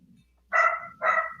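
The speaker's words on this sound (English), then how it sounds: "Whose dog's barking?" A dog barks twice in the background of an open-mic podcast, two clear, fairly loud woofs about half a second apart that stand out alone against near silence.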